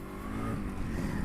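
A customised Yamaha RX 100 two-stroke motorcycle revs hard, a dense, steady engine roar close by with buzzy harmonics running throughout, no voices.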